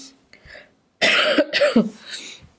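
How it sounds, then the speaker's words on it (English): A harsh burst of coughing, two or three coughs in quick succession, close and loud after a brief quiet moment. "Sorry, I hate this cough."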